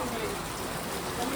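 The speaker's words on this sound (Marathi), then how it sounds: "हे बघा आवरा पाऊस पडतोय ना" Steady, fairly faint hiss of heavy rain falling outdoors near a market in Panvel, continuous with no break, while people talk over it.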